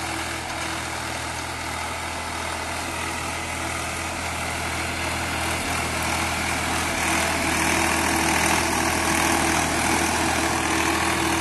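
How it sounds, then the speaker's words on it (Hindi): An old three-cylinder Swaraj 735 tractor with an inline pump idles steadily, a continuous low diesel rumble with broad mechanical noise, close and unchanging, with no talk. "देखो भाइयों पहले के हाई में है, बहुत बढ़िया काम कर रहा है ट्रैक्टर।"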